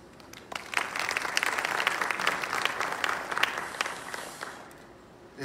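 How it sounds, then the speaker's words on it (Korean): An audience claps steadily to welcome Medium's CTO onto the stage at a tech presentation on hardware-accelerated blockchain. The dense applause swells quickly, holds for several seconds, then thins and fades out. "무대에 오를 박윤성 CTO님을 여러분 큰 박수로 환영해 주시기 바랍니다"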